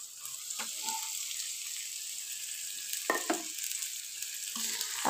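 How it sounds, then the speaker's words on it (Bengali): Dried loitta fish being stir-fried with onions in a pan, a steady hiss of frying with a few scraping stirs of the spatula, close and moderate in level, with no talk. "এখন শুটকি মাছটা দিয়ে পেঁয়াজটার সাথে একটু নেড়ে চেড়ে নিচ্ছি।"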